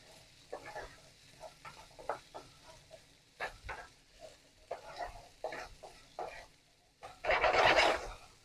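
Potatoes being stirred in hot oil in a pan, irregular scraping strokes with soft sizzling between them, closing on a louder burst of sizzle.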